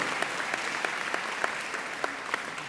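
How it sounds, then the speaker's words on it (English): An audience of teachers and staff at a school opening-day event applauds steadily for a few seconds. The clapping sounds dense but fairly soft, as if heard from a distance in a large room. "round of applause, that's phenomenal"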